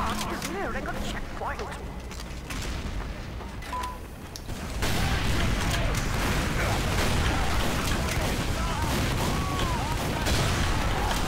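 Rapid bursts of gunfire and sharp shots from Team Fortress 2 fill a busy battle against bots on the Hoodoo map, dense and continuous throughout, with a quieter stretch before the action thickens.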